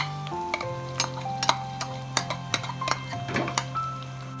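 Chopped onion and ginger sizzle and fry in a pan while a spoon stirs them, with repeated sharp scraping clinks against the metal over a steady frying hiss, close and moderately loud, with no talking.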